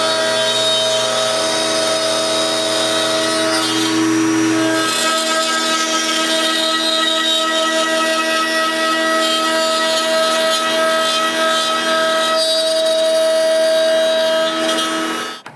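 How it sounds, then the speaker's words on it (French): A wood router cuts a groove in multiple passes while building a dowelling jig, a loud sustained high-pitched whine that shifts in pitch as the bit bites into the wood, running almost without break. "Pour ça, j'utilise le toupie puis je fais plusieurs passes."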